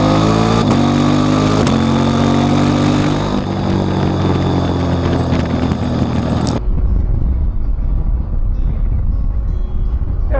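KTM 790 Adventure motorcycle in rally throttle response mode roars loudly and revs sharply for several seconds, then cuts abruptly to a lower, rougher idle-like rumble.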